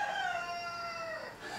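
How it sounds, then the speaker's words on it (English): A pet rooster kept indoors on a rainy day crows once, a long, drawn-out call heard at moderate distance against a quiet room background. "You might be able to hear my rooster."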